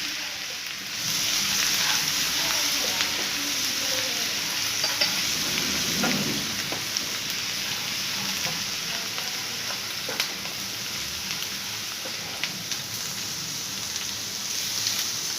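Onion sizzles steadily in hot oil in a pan for a curry, with a spoon stirring through it and scraping now and then, a close, continuous frying hiss with no talking.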